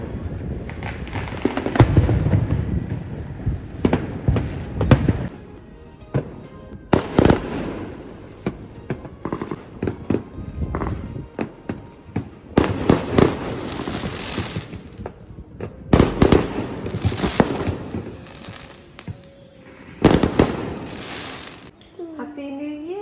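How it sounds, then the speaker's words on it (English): New Year fireworks burst in Phuket, a long run of loud booms and crackling firecracker volleys in dense, irregular clusters, some near and sharp, others duller, with brief voices near the end. "If the fireworks wake me up, which I'm sure they will, I'll try and record some for you"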